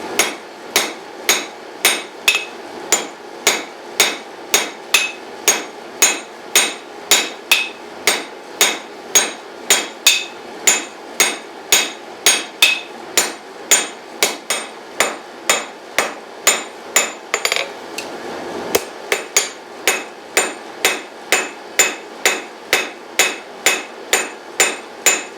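Steel rings under repeated hammer blows on a Harbor Freight cast steel Doyle anvil, a long, evenly paced series of sharp, bright strikes close by, with a brief lull in the rhythm partway through.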